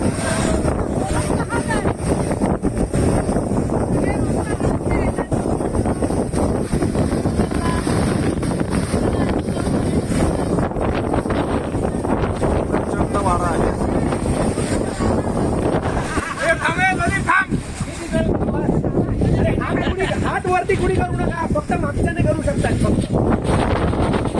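Strong wind at Amboli waterfall near Sawantwadi, a relentless rough roar of gusts buffeting the microphone among tourists, with voices speaking now and then over it.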